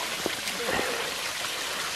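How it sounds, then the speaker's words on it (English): Spring water flows and trickles out of rocks at Barton Springs beside a small river, a steady soft outdoor wash with faint drip accents and a person's voice briefly heard near the start. "Water coming out of the rocks."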